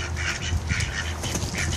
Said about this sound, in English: See, the duckies are there, too.